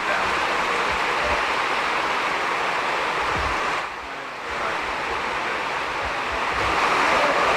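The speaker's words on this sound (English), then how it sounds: "the rain is pretty much coming down vertically" Heavy rain pouring vertically at a football ground before kick-off, a dense, broad hiss, steady throughout apart from a brief dip partway, with no talking.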